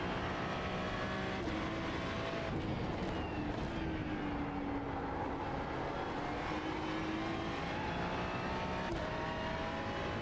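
An Aston Martin GT3 race car laps Mount Panorama in a racing game, its engine howling steadily with sweeping pitch changes through gear shifts and corners, constant and alone.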